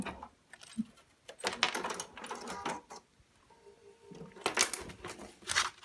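Sewing machine top stitching denim jeans, with bursts of rapid mechanical stitching rattle separated by short pauses and clicks, close and moderately loud, with a low whirring hum in one gap.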